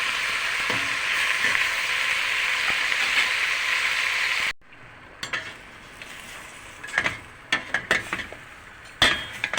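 Meat sears in a pot with a steady loud sizzle for several seconds, then it drops off to quieter clinks and stirring noises of utensils against the pot.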